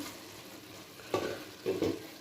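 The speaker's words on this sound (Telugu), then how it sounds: "ఇప్పుడు ఒకసారి మూత తీసుకొని అంతా బాగా కలుపుకున్నామండి" Pulao rice being stirred in a pot produces two soft, scraping bursts of stirring over a quiet background hiss, close and fairly faint.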